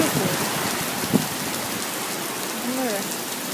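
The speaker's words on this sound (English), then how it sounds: "Look how rainy it is." Windy rain falling steadily outside an open balcony among palm trees, a dense close hiss of drops with a brief louder splash and faint voices in the background.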